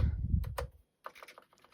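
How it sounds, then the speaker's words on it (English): Keys are pressed on a repaired vintage TI-99/4A computer keyboard, a low rumbling press followed by several quick, crisp clicks in an uneven run, close and alone. "When you test space bars, you want to kind of go all the way across, make sure it's working everywhere."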